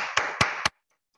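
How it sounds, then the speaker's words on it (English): Applause from a school Zoom assembly, heard as a brief burst of clapping with three sharp accents, cut off abruptly into silence. "Can we give them a round of applause?"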